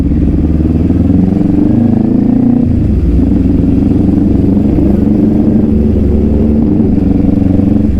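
A loud Kawasaki Z10 sport motorcycle engine revs hard and steadily close by, a constant throaty roar with a slight shift in pitch midway.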